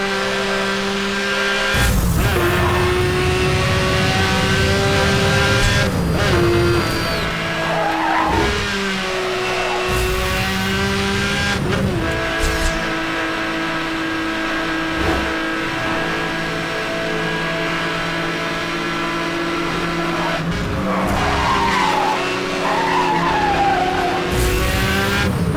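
A race car in Need for Speed Hot Pursuit Remastered on PS5 roars and revs while overtaking, with repeated long tire squeals and skids through corners over a constant loud engine whine.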